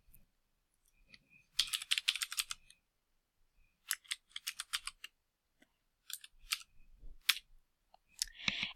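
Bursts of rapid key clicks from typing on a computer keyboard while entering a Python command, close and fairly quiet, in several short runs separated by pauses.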